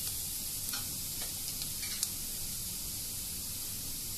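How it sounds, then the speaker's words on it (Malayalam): Onions and curry leaves sautéing in a pan for a vanpayar potato stir-fry, a soft steady sizzle and hiss with a few faint stirring scrapes, fairly quiet and without voices. "കറിവേപ്പില ഞാനൊരു അല്പം അധികം എടുത്തിട്ടുണ്ട് കേട്ടോ. ഇതെല്ലാം നമുക്ക് വഴറ്റിയെടുക്കാം."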